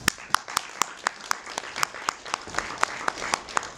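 A small audience at a talk gives a short burst of applause: sharp, fairly even claps a few per second from a handful of people, close and moderately loud, with a low murmur underneath.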